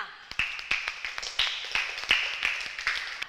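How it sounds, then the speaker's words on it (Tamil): A small group clapping for students in a Tamil language class, a few sharp, uneven claps spread across a short stretch, fairly close and moderate in loudness. "உங்களுக்கு ஒரு கைத்தட்டல் கொடுக்கலாமா?"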